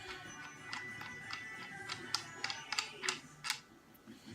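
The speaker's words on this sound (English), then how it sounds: "So we're going to go ahead and take this breech plug out." Breech plug being unscrewed from a CVA V2 muzzleloader, a simple screw-in, screw-out plug: a series of faint, irregular metallic ticks and clicks, close and quiet, with no talking.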